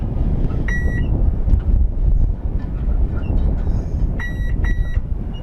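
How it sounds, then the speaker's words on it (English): An electronic speed controller on an FMS Corsair 1700mm RC warbird emits short, sharp tonal beeps in separated groups, cutting through loud outdoor wind noise. "There's 2 beeps. That's the battery type."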